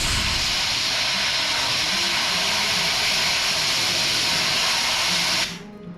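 A wire welder laying a bead on a 1981 Monte Carlo passenger side fender, a loud steady crackling sizzle that runs for over five seconds before stopping, close and alone without talking.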